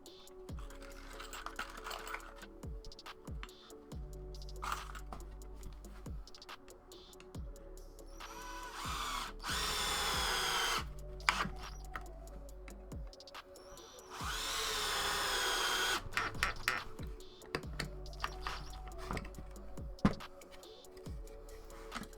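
Drill drives long pocket hole screws into thick wood with a Kreg 320 jig, two sustained whirring runs with a rising pitch amid clicks, taps and handling noise.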